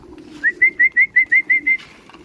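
Pigeons in a loft, heard as a close, clear run of seven or eight quick, evenly spaced call notes over a soft low murmur of background birds, with no talking.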